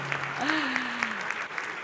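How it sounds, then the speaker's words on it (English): Audience applause after a conversation with OpenAI's CEO, a soft, steady wash of clapping with a voice speaking over it. "Big round of applause, please, for Sam Altman, their CEO of OpenAI"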